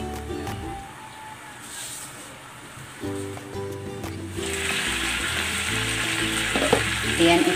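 Chicken legs roast in a covered pan, frying and sizzling with a steady crackle that swells louder partway through. Soft background music plays under the cooking sounds.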